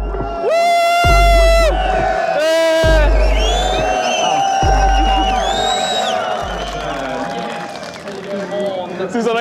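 Spectators in the grandstands at the Bol d'Or 24-hour motorbike race cheer and whoop loudly amid a steady crowd roar, with someone talking close over it throughout.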